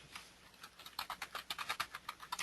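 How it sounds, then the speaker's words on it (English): Someone types on a computer keyboard during a software demonstration, the key taps coming in quick irregular bursts that grow denser and louder, with no voices over them. "I'm just typing something random"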